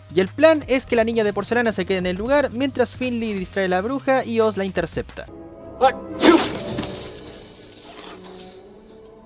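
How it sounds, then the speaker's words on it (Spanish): Right after a stretch of continuous Spanish speech comes a single short, sharp sneeze, close and fairly loud, then a low rustling tail. "Estornudaste en el plan."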